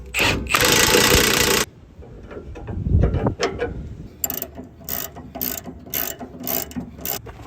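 A ratchet tightens a lock nut on the rear suspension of a 5th-gen Ram 1500 during a lift install, with quick clicking runs after a loud burst of impact-tool or air noise, close and without speech.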